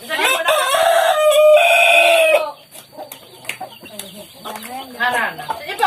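A rooster crows loudly and close, a long harmonic call, followed by chickens clucking in short, scattered bursts at a rural family gathering.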